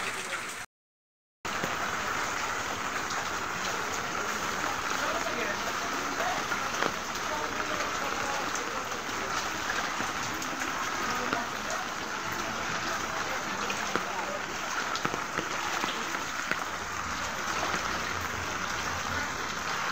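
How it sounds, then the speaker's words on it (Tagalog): Heavy typhoon rain in Metro Manila pours down without pause, a dense, loud, steady roar of drops hitting surfaces all around. "ganito kalakas ang ulan, walang tigil"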